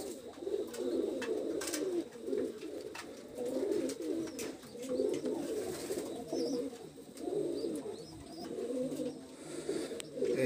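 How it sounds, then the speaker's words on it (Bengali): A small female Oman Teddy pigeon coos steadily in soft, repeated low rolling phrases, close and continuous, over a quiet background with faint chirps from other birds. "এই কবুতরটা দেখেন, একটা ওমান টেডির মাদি কবুতর।"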